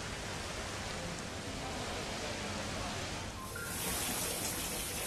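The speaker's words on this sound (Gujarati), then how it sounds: "વડોદરાના વિવિધ વિસ્તારમાં ધીમી ધારે વરસાદ વરસતા વાતાવરણમાં ઠંડક પ્રસરી।" Light, steady monsoon rain in Vadodara, Gujarat, a soft continuous wash of drizzle that thickens noticeably toward the end, with no voices.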